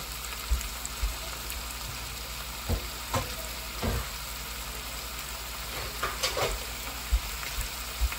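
Mussels sautéing in a pan for ginisang tahong, a steady low sizzle broken by scattered clicks and clinks of shells and utensils, with no voices.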